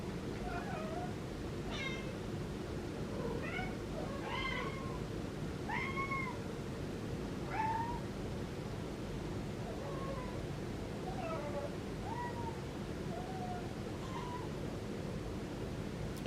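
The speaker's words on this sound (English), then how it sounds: "now I'm going to let all the kittens up." Several kittens meow in short, rising calls scattered through the stretch, moderately close, over a steady hiss of room noise in a house with rescued cats, no talking.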